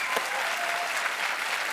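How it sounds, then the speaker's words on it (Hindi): A television studio audience claps loudly and continuously, a dense, even roar of applause with a faint voice buried underneath. "सोनाक्षी का जोरदार तालियों से स्वागत एक बार"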